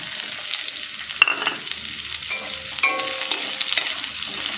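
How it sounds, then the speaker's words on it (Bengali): Sliced onion fries in oil after a chilli tempering, giving a soft continuous sizzle with scattered crackles and spatters, close and fairly quiet. "এবার পেঁয়াজটাকে ভালো করে একটু ভাজা ভাজা করে নিচ্ছি"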